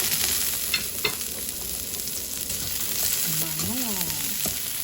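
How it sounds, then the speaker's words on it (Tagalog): Fresh onions sizzle and fry steadily in a hot pan, a dense continuous crackle with occasional stirring clicks, close and fairly loud, while a faint tonal chirp rises briefly in the background. "hulog na natin ang sibuyas. Sibuyas na sariwa."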